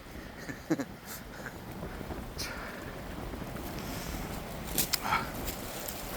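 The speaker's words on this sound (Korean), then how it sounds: "바람 불고" Wind blowing across a seaside guard post on a hillside path, a steady broadband rush with gusty swells and a few brief knocks and rattles close to the microphone.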